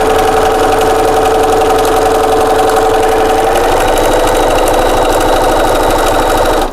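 A sewing machine stitches a quarter-inch seam on a one-piece purse wallet, giving a loud, steady, continuous mechanical whir from start to finish with no voices.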